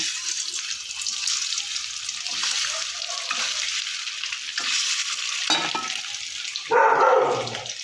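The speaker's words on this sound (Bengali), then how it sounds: "এবার আমি ডিমগুলো ভেজে নেব।" Eggs sizzle and crackle steadily in hot oil in a wok, with scraping stirs and a louder burst of hissing near the end.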